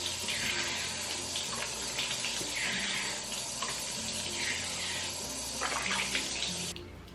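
Water runs steadily from a bathroom tap during teeth brushing, a close continuous splashing rush that eases off at the very end.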